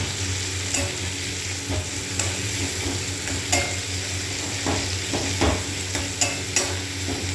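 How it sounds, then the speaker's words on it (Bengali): Onion frying in a pan, a steady close sizzle with repeated stirring scrapes and light taps of a utensil at an irregular pace. "পেঁয়াজটা ভাজা অবধি আমরা অপেক্ষা করি"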